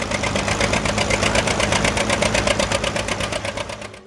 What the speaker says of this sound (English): Its two-cylinder engine spoke in slow, deliberate pulses, pop, pop, pop, each one heavy with torque